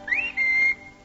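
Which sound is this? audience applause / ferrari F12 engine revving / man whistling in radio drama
man whistling in radio drama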